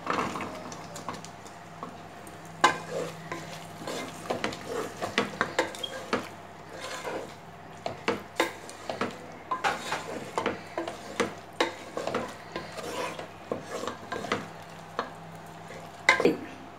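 Butter beans go into a pan of masala for a mushroom butter beans pulao, heard as a run of irregular spoon scrapes and clinks against the pan over a faint background hum.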